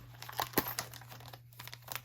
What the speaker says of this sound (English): Looks like it's catching on the plastic bag there.